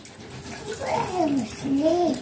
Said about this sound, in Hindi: सूर्य भी मछली धो रहा है।